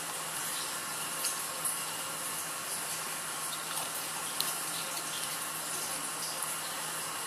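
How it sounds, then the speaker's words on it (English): Steady watery sloshing and faint bubbling as a tomato ketchup packet is pushed into a water-filled 1 liter plastic bottle, a continuous close, even wash of sound with small splashy peaks and no talking. "this is a tomato ketchup packet, and I'm using a 1 liter water bottle. And I'm now putting it inside the bottle."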